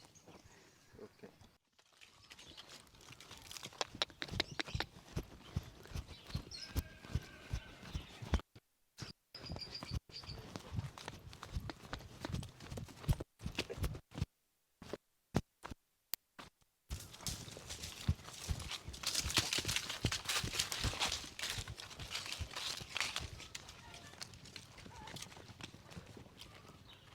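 A mare walks on a stud farm, her hooves clip-clopping in a steady, close, even rhythm that breaks off briefly and resumes, with faint background noise and no talk over the steps.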